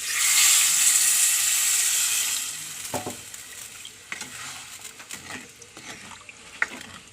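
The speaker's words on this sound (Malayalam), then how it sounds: "വെള്ളം ഒഴിക്കുന്നു" Water hits a hot pan of sardine curry, setting off a loud, rushing sizzle that fades after a couple of seconds into quieter bubbling with scattered utensil clinks.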